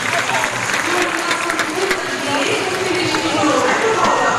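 A stadium crowd at a Gateshead Diamond League athletics meet applauds and cheers continuously, a dense wash of clapping with some voices mixed in throughout.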